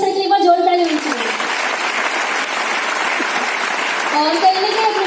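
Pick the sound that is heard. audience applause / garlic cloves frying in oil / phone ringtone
audience applause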